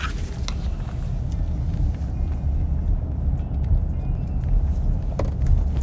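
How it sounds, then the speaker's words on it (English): A car drives along a residential street, heard as a steady low rumble of engine and road noise from inside, with faint clicks and no talking. "Keep on driving."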